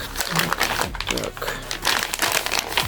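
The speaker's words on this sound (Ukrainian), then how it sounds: "Так, і перейдемо до її розпакування." A parcel holding a commemorative coin being unpacked, loud close crinkling and rustling of packaging in quick irregular bursts, with a voice mixed in.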